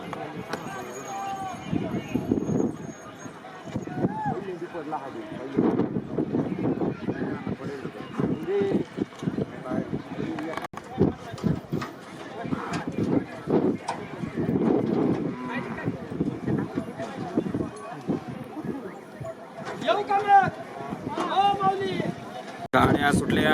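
Bullock and horse carts race at a rural bullock-cart racing ground, with cattle lowing and bursts of thudding hoofbeats and running under loud, excited crowd voices and shouting.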